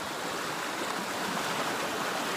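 A stream flows under a small pedestrian bridge in a mountain national park, giving off a steady, close, full rushing hiss with no pauses.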